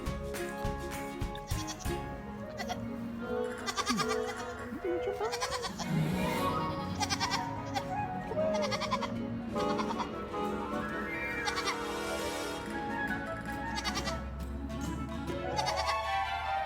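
Baby goats bleat repeatedly, several high, wavering cries close by and overlapping one another, with soft background music running underneath.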